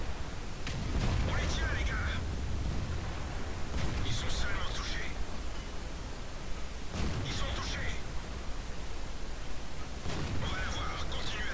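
AMX 13 90 light tank firing its main gun in a tank battle game, four separate heavy booms spaced a few seconds apart, each followed by a short mechanical reload clatter, over steady engine rumble with narration underneath.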